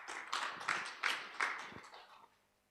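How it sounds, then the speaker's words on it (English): A small audience gives a brief round of applause for a presenter at a live talk on AI for civil society groups, about half a dozen soft clapping bursts fading out after two seconds, quiet and fairly close. "let's give him a round of applause as he comes forth"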